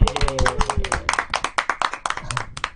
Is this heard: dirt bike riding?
no